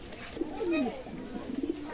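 A local domestic pigeon coos close by, its low, throaty notes rising and falling in a short rhythmic series, with faint murmurs of background voices.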